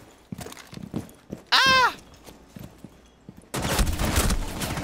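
Gunfire in Rainbow Six Siege during a competitive match, with scattered sharp shots, footsteps and game noise, then a loud sustained burst of rapid fire near the end.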